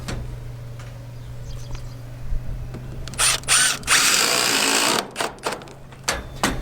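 Power drill driving screws into metal roof trim on a hunting cabin, with short whirring bursts and one longer sustained run, close and loud over a low steady hum.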